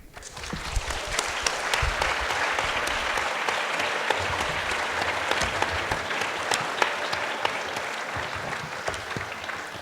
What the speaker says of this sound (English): a bigger applause, please